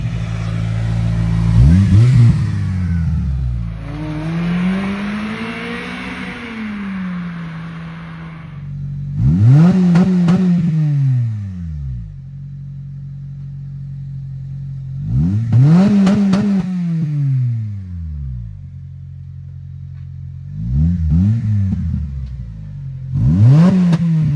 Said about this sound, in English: So these are the current starts with the exhaust leak.